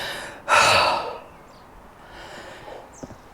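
Heavy, gasping breath after a set of 80 kg box squats in a strongman training session, one loud exhale up front followed by quieter panting breaths, close to the mic with no talk.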